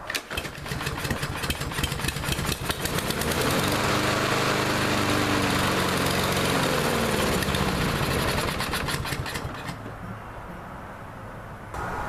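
Troy Bilt TB230 lawnmower engine running rough after carburetor cleaner, a close, loud, steady chugging drone with an uneven, wavering pulse, easing off slightly toward the end.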